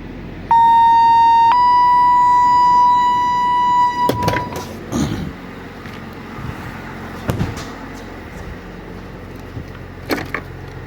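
A fire department pager sounds its alert during a paging system test: a loud steady electronic tone that steps to a second pitch, then cuts off, followed by quieter clicks and handling noise.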